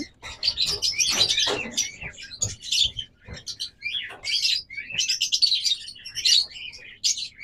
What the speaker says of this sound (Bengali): তারপর এখানে রয়েছে অনেকগুলো পাখি